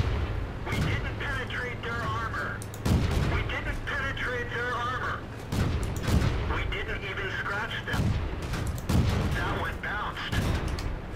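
Tank cannon fire in World of Tanks, heavy booming shots repeating roughly every few seconds over a low engine rumble, with voices talking between blasts.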